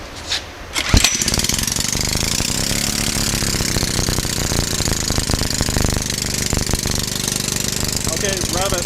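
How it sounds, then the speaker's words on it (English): A 5 horsepower John Deere engine running on hydrogen starts with a sharp bang, then settles into a loud, steady, rapid chugging, close by and continuous, with voices talking over it. "This is just a 5 horsepower John Deere engine."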